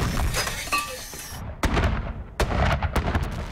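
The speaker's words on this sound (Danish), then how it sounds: "De engelske kanoner brager." British artillery cannons firing in Afghanistan, several heavy booming reports with sharp cracks, loud and fairly close, spaced irregularly across the stretch with rumbling tails between shots.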